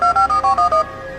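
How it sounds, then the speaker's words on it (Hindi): A phone keypad dialling a number on a cell phone: six short two-tone beeps in a quick steady rhythm, loud and close, followed by a faint lingering hum. "और तुरंत निर्मल को फोन किया।"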